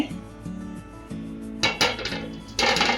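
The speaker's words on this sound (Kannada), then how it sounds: "ಸ್ಟವ್ ಹಚ್ಚಿ ಬಾಂಡ್ಲಿ ಇಟ್ಕೋಬೇಕು." A kadai is set on a lit stove to make avalakki oggarane, giving a couple of close metallic clanks and knocks over faint kitchen hum.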